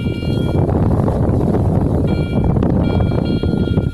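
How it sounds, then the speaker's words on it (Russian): Strong wind buffets the microphone outdoors during coin hunting with a metal detector near an abandoned house, a loud, steady, roaring rumble throughout, with a thin electronic tone coming and going. "Сегодня опять такой ветер сильный."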